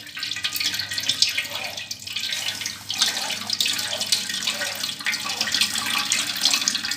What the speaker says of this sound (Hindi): तो देखिए जग के साथ हम पानी डाल रहे हैं इसके अंदर